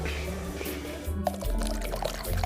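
Sweet potato slurry pours steadily through a sieve, a continuous close liquid trickle and splash with no talk.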